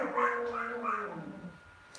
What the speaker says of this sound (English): The dogs are getting mad again.